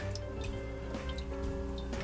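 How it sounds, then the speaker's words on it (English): Water drips steadily from a Berkey gravity water filter, small patters and ticks repeating over a constant low hum, close and fairly quiet with no talking. "Dripping pretty fast, isn't it?"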